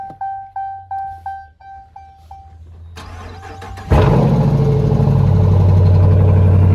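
Rhythmic chiming tones, then a starter cranks and a Dodge Challenger R/T's big engine with modified exhaust fires up loudly into a deep, lumpy rumbling idle.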